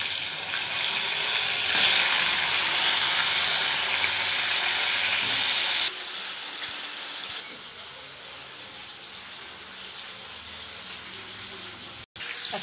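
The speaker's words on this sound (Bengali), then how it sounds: "ফুলকপি গরম হয়ে গেছে, তেলটা ভেজে নেব। এখন ভেজে নেব।" Cauliflower frying in hot oil gives a loud, steady broadband hiss and sizzle, strong for the first half and then dropping to a softer, continuous sizzle with a brief gap near the end.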